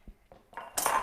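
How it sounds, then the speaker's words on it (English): A chopping board is set down on a kitchen counter during soup prep, giving a few light knocks followed by a louder clattering clunk of board and utensils at close range. "So let's put this chopping board over here and I'll get my chicken one."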